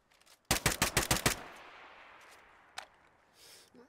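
Close, loud Arma 3 machine gun burst of about seven sharp evenly spaced rounds, followed by a fading echo and one more distant shot during an urban combat training exercise.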